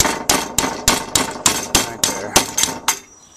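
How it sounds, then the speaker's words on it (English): A hammer repeatedly strikes sheet metal against a table edge while panels on a diesel Blazer are being repaired, about eleven sharp, evenly spaced metallic blows, close and loud, with a brief spoken remark. "the closer we get to the bend, the more we're going to hammer up towards the edge of the table"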